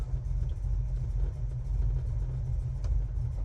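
A low, rumbling V8 in a 1967 Chevelle idles steadily up close, its deep throb unbroken throughout.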